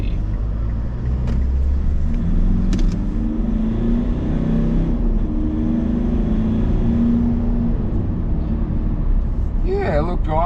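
A 2021 Mitsubishi Triton single cab chassis with a 2.4 litre diesel engine accelerates unladen, its low engine drone building steadily under a loud, continuous rumble, with faint talk near the end.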